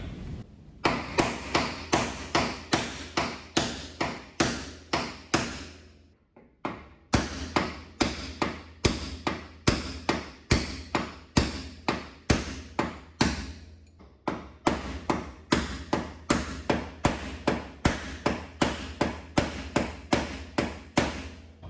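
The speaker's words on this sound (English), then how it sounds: "Punch, hammer." Sharp metallic hammer blows strike a punch in a steady, repeated rhythm, driving out a part on a 1967 VW Beetle, close and loud, with one short pause partway through.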